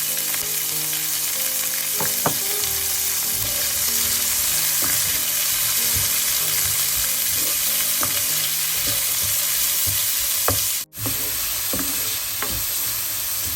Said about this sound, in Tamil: வெங்காயம், பச்சை மிளகாய் கொஞ்சம் ஒரு அரைப்பதம் வதங்கட்டும்.